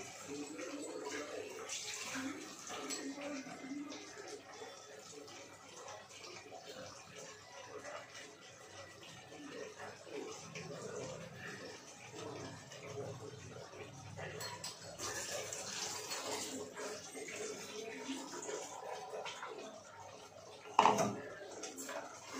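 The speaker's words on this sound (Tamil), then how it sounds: "இதுல இப்ப வந்து நம்ம இதை கொஞ்சம் தண்ணி ஊத்தி" Water poured into a chicken curry with ground mint and coriander in a pressure cooker, a long steady splashing and trickling with kitchen clatter, a dog in the background and a sharp knock near the end.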